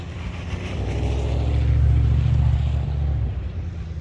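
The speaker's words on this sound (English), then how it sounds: "Loud truck." A loud truck passes on a street beside a tree-felling site, a heavy low engine rumble swelling toward the middle and easing away over about four seconds, with no talk.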